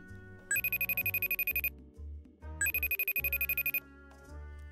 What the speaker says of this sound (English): Skipper, your phone is jiggling